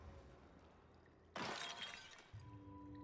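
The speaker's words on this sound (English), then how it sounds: "Shattering ceramics." Ceramics shatter in Star Wars Jedi: Fallen Order, a single loud crash of breaking pottery with tinkling shards that fades over about a second amid quiet game ambience.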